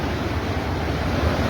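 Floodwater rushes through a river after a cloudburst, a steady, loud, broadband roar of churning water that holds constant from start to end with no voices.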